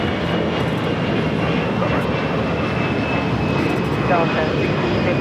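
Airplane taking off from runway 25 right at LAX, a loud sustained engine roar with broadband rumble filling the whole stretch, heard up close and steady.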